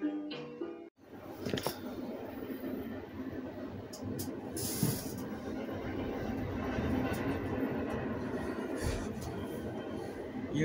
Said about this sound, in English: You guys probably can hear the train.